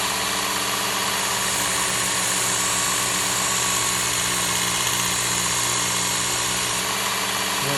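A Work Sharp Ken Onion Elite sharpener grinds kitchen shears, a steady loud motor hum with grinding texture running continuously throughout, with no talking.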